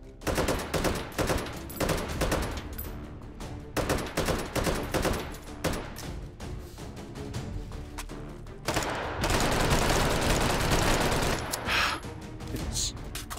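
A grenade launcher and other weapons fire in the VR game Hot Dogs, Horseshoes & Hand Grenades, with repeated bursts of loud shots and blasts, followed by a longer sustained roar of fire near the end.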